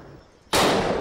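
A single sharp, loud sniper rifle shot cracks out halfway through after a quiet moment in the World War II dinosaur shooter Dino D-Day, with its blast tailing off briefly.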